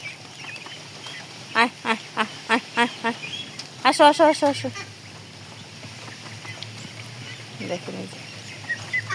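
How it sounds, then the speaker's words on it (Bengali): Duckling calls from a small flock being shown and fed by their keeper at a rural home. Short bursts of peeping sound close by, mixed with a woman's repeated coaxing calls and her talking. "এই যে আমার হাঁসের বাচ্চাগুলো আপনাদের দেখাই"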